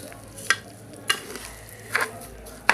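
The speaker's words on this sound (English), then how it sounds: "you need to give it a friendly stir" Washed rice being stirred in a pot for coconut rice, a faint background hiss broken by four distinct scraping strokes of the spoon at a slow, even pace.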